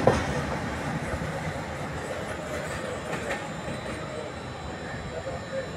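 A container freight train accelerates through Rajpura railway station without stopping, giving a steady, loud rumble of wagons with faint clickety-clack from the wheels throughout, while a voice speaks over it.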